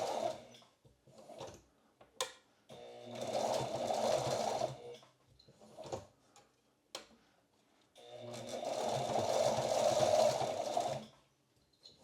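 A sewing machine stitches a nylon sling strap in two close, steady bursts of rapid mechanical whirring, each several seconds long, separated by quiet pauses with small clicks and handling noises, and nobody speaks.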